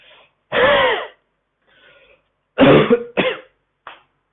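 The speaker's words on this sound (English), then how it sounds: "One huff and one cough." A sharp forced huff followed by a pause, then a harsh cough and a couple of shorter coughing bursts, close and clear with quiet breaths between, during a breathing exercise.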